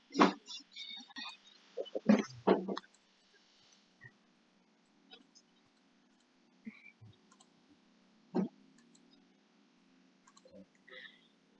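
A computer mouse clicks sharply several times in quick bursts at first, then sparser single clicks follow over near silence.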